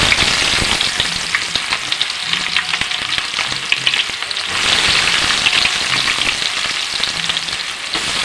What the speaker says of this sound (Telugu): ఇప్పుడు ఆయిల్లోని ఉల్లిపాయలు వేసుకోవాలి.